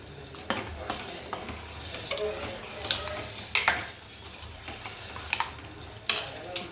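A spoon stirs and scrapes in a pot as sugar goes into simmering vermicelli kheer, with soft bubbling and repeated clinks of metal against the pan.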